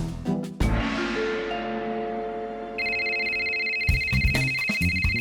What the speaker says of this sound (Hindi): ओए मोबाइल है, डोरबेल नहीं जो बजाया जा रहा है